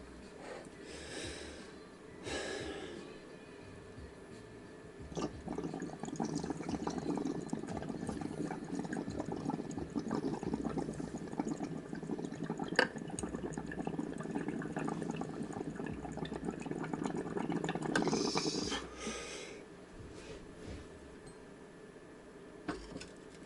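Water bubbling through a water pipe's filtration chamber, a steady gurgling rattle that runs for most of the stretch, fairly quiet and close, with short gaps of near silence at the start and end.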